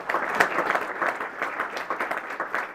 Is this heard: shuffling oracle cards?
no